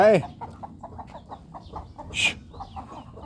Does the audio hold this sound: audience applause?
no